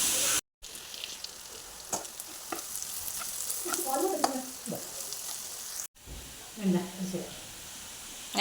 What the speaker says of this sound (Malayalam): ഇനി ഇത് നല്ല പോലെ ഒന്ന് വഴലിട്ട് നമുക്കൊന്ന് വഴറ്റിയെടുക്കാം